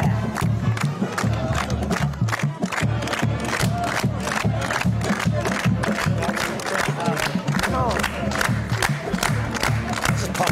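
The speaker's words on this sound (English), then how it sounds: "Can we hear a little bit from your award-winning marching band" An award-winning high school marching band plays at a morning broadcast with the football team present, crowd cheering over it; steady, loud drumbeats pound throughout under brassy layers and constant crowd noise.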